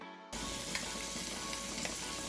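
Loud, steady sizzling and crackling of fish tails frying in hot oil, starting abruptly after a brief quiet moment and continuing without pause.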